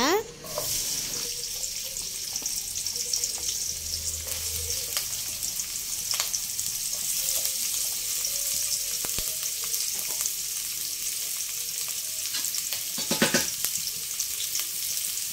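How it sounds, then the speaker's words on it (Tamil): Onions sizzle steadily in hot oil in a pan, a continuous bright hiss with occasional scrapes and clicks of stirring, close and fairly loud throughout. "எண்ணெய் நல்லா சூடானதுக்கு அப்புறமா தேவையான அளவு வெங்காயம் சேர்த்துக்கோங்க."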